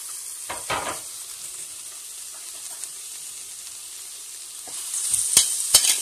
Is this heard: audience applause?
no